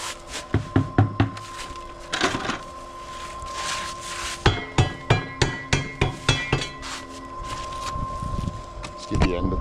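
Brick end being tapped during building work, a series of sharp close knocks in quick bursts, with people talking between and over them.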